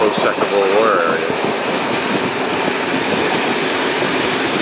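Train ride in Slovakia, from Bojnice toward Budapest: a steady, loud rumble of the rail carriage fills the whole stretch, with a brief squeal-like tone near the start.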